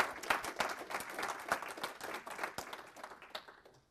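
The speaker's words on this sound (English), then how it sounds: "Go ahead and put your hands together." An audience at a technical conference talk applauds, with crisp individual claps blending into a moderate patter that gradually fades toward the end.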